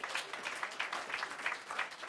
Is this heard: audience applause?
yes